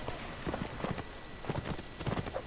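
Horse hooves clip-clop in a multiplayer video game, several rapid irregular clusters of hoofbeats at moderate distance over a steady game background, no talk.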